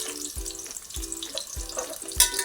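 Chopped onion frying in a pan for Telangana bagara rice, a steady close sizzle with low thumping stir strokes recurring about once a second and a brief brighter scrape near the end; no talking.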